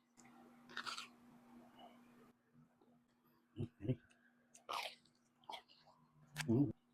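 Someone bites into a Dubai pistachio crunch waffle with kataifi, producing a few soft crunching bites and chewing sounds, close and faint, with speech at the start.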